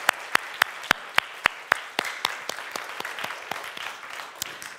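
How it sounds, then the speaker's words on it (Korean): A church congregation at a Sunday service starts with a few distinct, evenly spaced claps, which quickly swell into a burst of warm, scattered applause from many hands. "우리 수고한 분들 위해서 박수 한번 하겠습니다."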